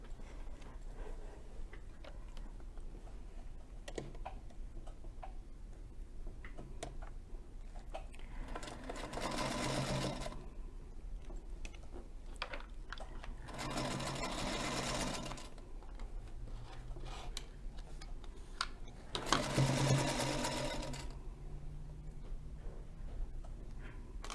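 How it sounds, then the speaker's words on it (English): A Singer Featherweight sewing machine stitches half square triangles in three separate bursts of quick, rhythmic running, with quiet ticking and handling sounds between them. "I'm going to sew this last set of the half square triangles"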